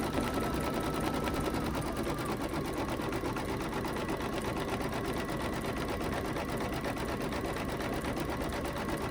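An embroidery machine stitches a name onto a baby bib, a steady close rapid whirring and tapping that runs without pause.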